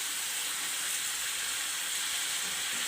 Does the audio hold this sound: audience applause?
no